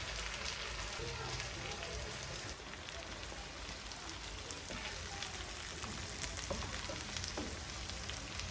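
Nigerian beans porridge frying in a pot, a steady dense crackle and hiss holding evenly throughout at close range, with no voices over it.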